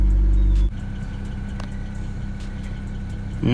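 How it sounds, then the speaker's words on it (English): A BMW engine idles smoothly at about 600 RPM with a steady, even low hum after a louder burst of sound in the first half second. "Nice smooth idle at 600 RPMs, right where it needs to be at"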